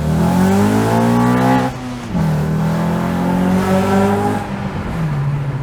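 A 7th-generation Honda Accord fitted with an aftermarket intake, headers and exhaust revs hard, its engine note climbing in loud, rising sweeps that break at each gear change and then build again, close and continuous.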